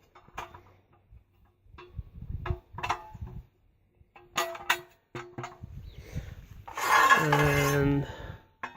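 Metal pot carriers set onto a homemade rocket stove, with scattered sharp metallic clanks and clinks at close range, ending in a brief ringing metal tone.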